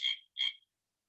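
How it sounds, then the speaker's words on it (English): A frog croaks twice in quick succession, two short raspy calls close together and fairly loud, then silence. "It's a frog."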